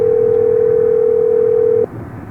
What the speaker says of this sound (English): Now let's call Merida